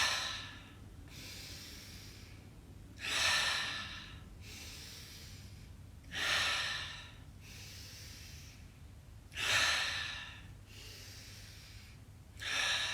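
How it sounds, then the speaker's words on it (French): Four slow, deep breaths during a morning stretching routine on a mat, each a soft broadband whoosh of air in through the nose and out through the mouth, spaced about three seconds apart over a quiet background. "5 grandes expirations par la bouche ensemble."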